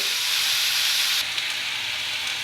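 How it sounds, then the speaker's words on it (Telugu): Chopped spring onions frying in a pan, giving a loud, close, continuous sizzle and hiss that eases slightly partway through, with no talking. "ఉల్లికాడలు కూడా బాగా ఫ్రై చేసుకుందామండి"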